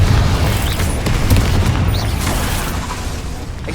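A Confringo blasting spell goes off in Hogwarts Legacy, a deep rumbling boom with scattered crackling bursts that stays loud and continuous through the whole stretch.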